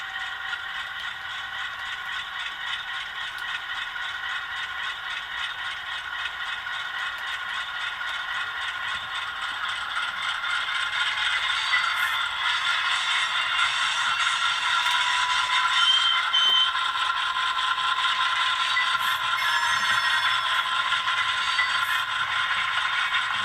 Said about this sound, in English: There's a combination of flange squeal and brake squeal there.